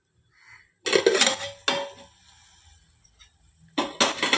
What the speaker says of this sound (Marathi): पाच मिनिट झालेले आहेत आपण झाकून काढून घेऊयात